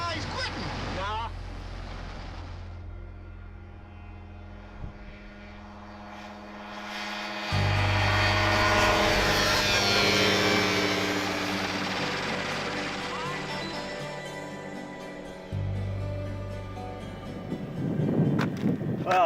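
A RANS light aircraft climbs away overhead, its engine drone swelling loud and steady with wind noise, while voices call out at the start.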